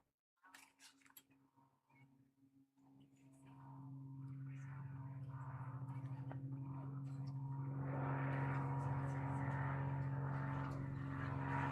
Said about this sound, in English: We're close to a little airport, so you hear planes coming over quite frequently.